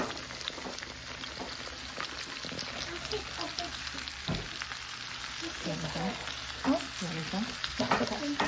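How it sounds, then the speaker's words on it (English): Carrots and celery fry in a fresh stick of butter in a hot pan for home-cooked chicken soup, giving a continuous close crackling sizzle with stirring scrapes throughout. No one speaks. "we went ahead and threw a fresh stick of butter in our hot pan. Now we're gonna add carrots and celery."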